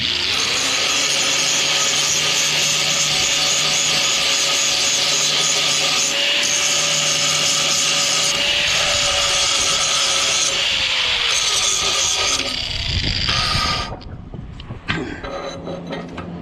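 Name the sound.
grinding galvanizing off steel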